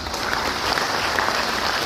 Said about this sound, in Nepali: सबैको जोरदार तालीका